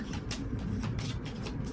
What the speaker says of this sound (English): you may look for the key, shuffle the rest of the deck,